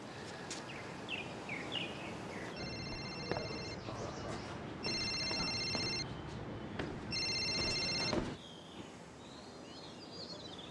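Outgoing telephone call ringing: three separate bursts of bright, repeating electronic ring tone, clear and fairly close, with soft birdsong and room ambience in the gaps.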